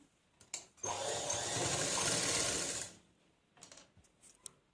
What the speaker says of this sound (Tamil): மார்க் பண்ணிவிட்டு இது மேலே வச்சு தையல் ஓட்டிடலாம்